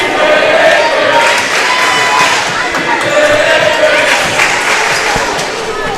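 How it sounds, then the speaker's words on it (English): Crowd chanting in the stands at a high school volleyball match, a loud, dense wash of many voices with rhythmic swells running through the whole stretch, echoing in a gym. "Crowd chanting she's in 8th grade."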